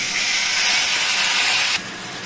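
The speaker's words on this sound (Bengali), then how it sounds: "এলাচি আর দারচিনি আমি ফোড়নে দিচ্ছি।" Cardamom and cinnamon hitting hot oil with a loud, steady sizzling hiss that holds for nearly two seconds, then drops to a softer continuous frying sizzle.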